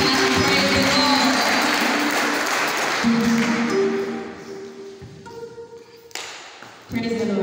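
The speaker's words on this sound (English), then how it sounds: "A hand of applause for teaching and praise the Lord." Applause at a church graduation service, a broad burst of clapping that fades over several seconds while sustained tones and voices carry on beneath it.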